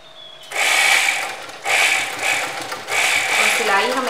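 A sewing machine stitching kurta fabric runs in three short bursts of rapid mechanical chatter, close and fairly loud, with brief pauses between.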